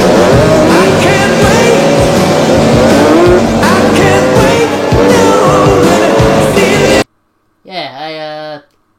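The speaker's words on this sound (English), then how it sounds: "They have an epic race through the desert bikes." Motorbikes racing through the desert in the 1980s vampire film The Lost Boys, a loud continuous engine roar with tyre squeals for about seven seconds, then a brief voice after it cuts out.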